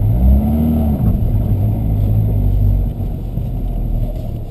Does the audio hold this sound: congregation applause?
no